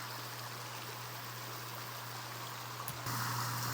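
A small creek in Colorado gold rush country flows with a steady, even rushing wash that stays constant and moderately quiet, with a low hum beneath and no talk.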